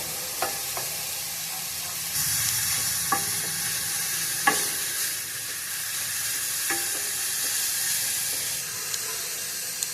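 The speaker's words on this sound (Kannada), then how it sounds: "ಕ್ಯಾರೆಟ್ ಚೆನ್ನಾಗಿ ಫ್ರೈ ಆಗಿದೆ." Carrots sizzling in a hot pan for momo filling, with a steady frying hiss broken by several sharp stirring scrapes and clacks from a spoon.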